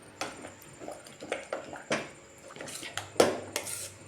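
A ladle knocks and scrapes against a pot while akkaravadisal, the sweet rice temple prasadam of Srirangam, is mashed, giving a series of short irregular metallic clinks at close range.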